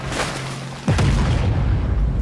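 A T14 tank cannon fires at enemy artillery in World of Tanks: one sudden heavy boom about a second in, followed by a sustained low rumble that carries on to the end.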